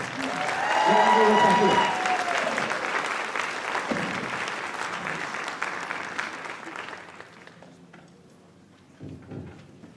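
Applause from a concert audience at a school spring concert and auditorium dedication, loud and dense at first and then fading over several seconds, ending in a brief smaller burst of clapping.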